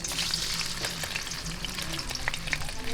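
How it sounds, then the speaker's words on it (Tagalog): Marinated chicken breast frying in a pan until golden brown, a steady close sizzle and crackle with light stirring scrapes and no talk. "medyo lang po ating prituhin to hanggang sa mag light brown o golden brown itong ating breast chicken"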